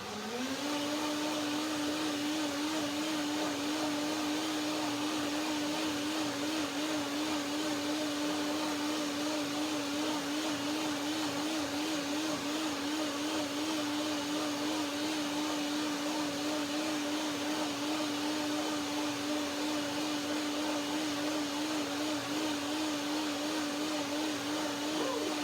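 A blender whirs steadily for the full stretch, blending a creamy date, macadamia and cherry shake; the motor holds one loud, constant pitch with a slight wobble throughout, and no voices break in.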